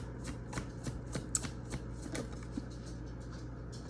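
Tarot cards are shuffled in a steady, close riffling patter of soft papery flicks that continues throughout at a low level, with no speech.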